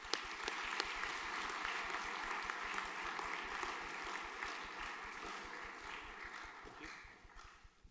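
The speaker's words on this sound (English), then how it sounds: "Round of applause for these boys." Steady applause from a large crowd at a junior graduation ceremony, dense clapping that holds throughout and slowly tapers off at the end.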